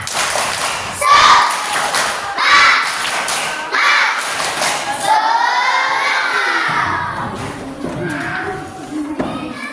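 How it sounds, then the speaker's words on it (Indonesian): A fifth-grade class performs a rhythmic spirit clap, bursts of group claps and thumps alternating with loud chanted shouts from many children, followed by a sustained sung or chanted passage. "Agar lebih semangat, kita lakukan tepuk semangat."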